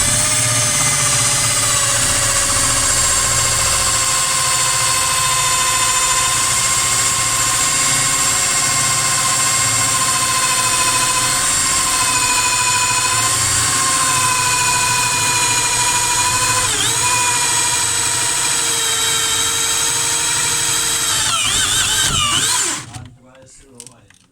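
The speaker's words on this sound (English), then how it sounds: "We drilling a hole." A power drill drilling a hole whines loudly and steadily for over twenty seconds, then winds down and stops.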